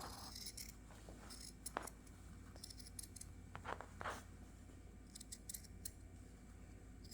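Scissors cut a fabric circle for a cross-stitch covered button. The faint, close snips and scrapes come in irregular clusters over a quiet room hum, with no voices.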